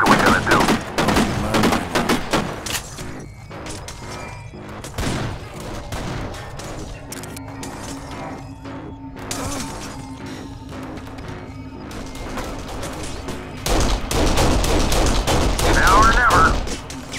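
Rapid gunfire and sustained automatic bursts rattle through a Kane & Lynch: Dead Men firefight, loudest at the start and again near the end, with shouted voices mixed into the battle.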